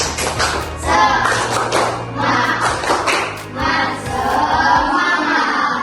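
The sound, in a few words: class doing a rhythmic clapping cheer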